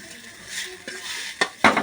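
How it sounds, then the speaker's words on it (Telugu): Masala being stirred into Maggi noodles in a pan on the stove, heard as soft scraping and light sizzling that ends in two sharper, louder scrapes against the pan. "నేనైతే బాగా కలుపుకుంటున్నాను, మీరు కూడా బాగా కలుపుకోవాలి."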